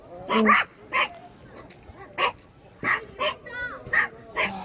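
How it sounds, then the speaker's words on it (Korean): A dog barks repeatedly near a coastal spot on the west sea where crab traps are set, sharp yips and woofs in uneven bursts mixed with whimpers, loud and close. "짖잖아. 짖지?"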